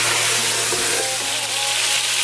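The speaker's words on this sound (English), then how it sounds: "We just want to kind of get some flavours and brown our lamb a little bit." Lamb browning in a pot on high heat, a dense, loud, continuous sizzle with a steady low hum beneath, no talk.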